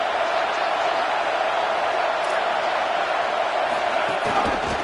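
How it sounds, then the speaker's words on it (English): A packed football stadium crowd at an Ohio State versus Tennessee game keeps up a loud, steady roar with no breaks, a broad wash of noise with faint voices inside it. "this crowd is fired up. Listen to this noise here."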